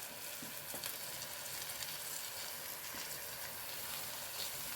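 Garlic, ginger and green chillies frying in a pan for fried chicken biryani, a soft, even sizzle with faint crackles throughout, quiet and close, with no talking.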